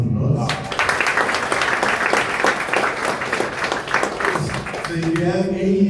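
An audience at a career talk gives a round of applause, with clear individual claps at close range that fade near the end as a voice begins speaking.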